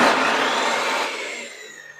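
An old free table saw that has been restored, running: a bright whirring motor hum that fades and winds down over two seconds, close and alone.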